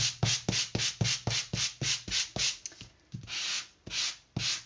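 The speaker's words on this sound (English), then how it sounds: "So I'm going to just distress it slightly by sanding it" Rhythmic hand sanding of painted wood, about a dozen quick rasping back-and-forth strokes at a steady pace, close up, followed by a few slower longer strokes.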